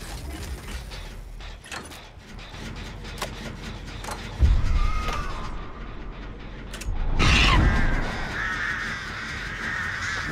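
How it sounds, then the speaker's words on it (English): Crows in the Dead by Daylight horror game caw repeatedly over mechanical clicking and ratcheting from a generator, with two loud bursts of flapping as the birds take off. "We got hit with birds."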